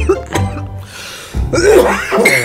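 A person coughs and clears their throat a few times in short, close bursts, with brief breaths and voice sounds between.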